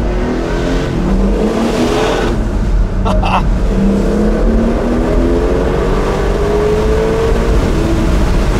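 A Porsche 911 GTS cabriolet engine revs loudly and continuously, its pitch climbing through rising sweeps with a brief dip near the middle, a strong, close exhaust note that fills the whole passage.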